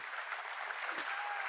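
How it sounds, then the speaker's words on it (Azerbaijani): A hall audience at a comedy show claps together in a brief, steady burst of applause, distant and fairly faint. "Alqışlan"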